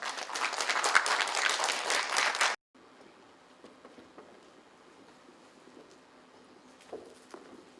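Indoor audience applause greets a speaker at a volunteer ignite-style event, a dense burst of clapping for about two and a half seconds that cuts off sharply into quiet room noise.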